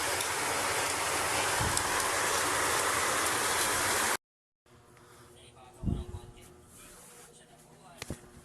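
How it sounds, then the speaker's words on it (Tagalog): Typhoon rain in Pili, Camarines Sur hisses steadily, then cuts out and returns fainter and muffled, with a few soft knocks and thumps. "sobrang lakas na po ng ulan dito sa Bicol, sa Pili Camarines Sur."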